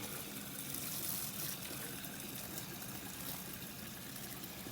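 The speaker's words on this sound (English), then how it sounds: "You're going to use your brand used hose and your brand used hose nozzle to fill up your brand used gallon jug of water." A garden hose with a nozzle fills a gallon jug, giving a faint, steady rush and trickle of running water outdoors, continuous and without any talking.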